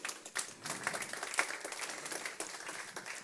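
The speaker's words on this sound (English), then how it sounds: "You can applause, of course." Scattered audience applause at the IHF Women's Handball World Championship draw ceremony, a thin, fairly quiet patter of individual claps with uneven rhythm, no talk over it.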